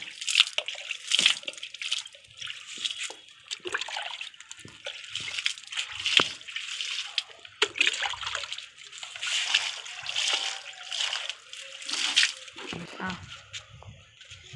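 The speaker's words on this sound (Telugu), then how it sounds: "ఇలా కలుపుకొని మనం చెట్లకి ఇట్లా మొదట పోసుకుందాం ఇట్లా" Homemade organic liquid fertilizer poured onto garden plants, giving irregular splashes, drips and trickles in repeated short bursts, close and moderately loud, with a brief voice now and then.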